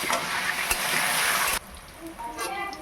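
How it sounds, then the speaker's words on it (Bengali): Potatoes with turmeric and a little salt frying in a pan, a loud dense sizzle that drops off sharply partway, leaving quieter crackles and faint stirring close by. "এবার আমি আলুগুলো ভেজে নেব।"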